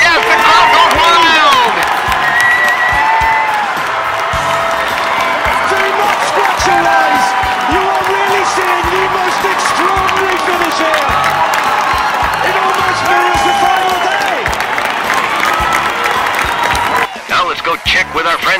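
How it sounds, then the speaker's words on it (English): A basketball arena crowd roars, cheers and applauds loudly and steadily after a made basket, with whoops rising over the din and speech heard throughout. "Yes, the crowd goes wild."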